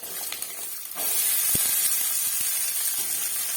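Potato and five-spice hit hot oil in a pan for samosa filling, a sudden loud hiss and sizzle rising about a second in and continuing steadily, with a few light clicks.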